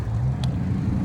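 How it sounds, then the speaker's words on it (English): Road traffic under a freeway, with cars passing in a low steady rumble that stays loud and continuous, plus a brief faint hiss in the middle and no voices. "A whole bunch of cars."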